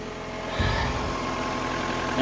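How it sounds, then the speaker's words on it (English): A Mazda car engine idles steadily just after starting, a low continuous rumble with mild vibration that holds even through the short stretch, rising slightly at the end. "Seems to be running on all cylinders."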